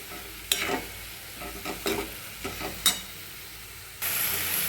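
Soaked moong dal being sautéed in a pan for shepu (dill) bhaji, giving a steady low sizzle with a few sharp scraping stirs and a louder frying hiss near the end, no talk.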